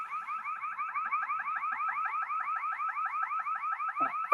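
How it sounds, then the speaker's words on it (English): A car alarm blares in rapid repeating warbling chirps, a steady electronic siren cycling continuously at moderate distance with no talk over it. "So we have an alarm going off."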